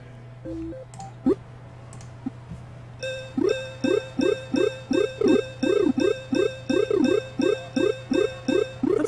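In the Lemonade Tycoon video game, a money sound effect repeats as a rapid, even train of bright electronic blips, preceded by a few scattered clicks.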